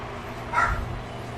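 A dog gives a single short yip in the background, brief and fairly soft over a low steady room hum, with no talking at that moment.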